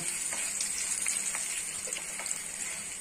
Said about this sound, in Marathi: उडदाची डाळ लाल रंगावर आपल्याला ही परतून घ्यायची आहे